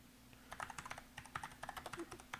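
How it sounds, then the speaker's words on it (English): Someone types on a computer keyboard in a quiet room, a quick, steady run of close, crisp key clicks in short bursts with brief pauses, over a low, constant hum. "I'm typing in download Windows Server"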